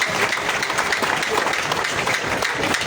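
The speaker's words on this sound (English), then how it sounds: "Please clap for yourselves." A rally crowd claps in dense, continuous applause that fills the short stretch at full loudness, with a little voice mixed in.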